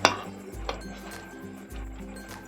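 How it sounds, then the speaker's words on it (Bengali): Boiled green mango poured into a metal strainer in a home kitchen, with a clinking knock of metal at the start, then soft sloshing and a low, quiet rumble. "আমি ছাঁকনিতে একবারে ঢেলে নেব।"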